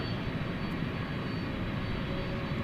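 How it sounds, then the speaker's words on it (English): Frontier jet taxiing at DFW Airport at night, a steady distant engine roar and whine holding evenly throughout with no talk. "once that Frontier plane gets out of the way"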